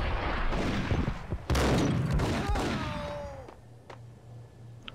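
A shotgun fires in the video game Max Payne, loud booming blasts with a burst of overlapping shots and ringing debris, then fading echo into low ambient hum.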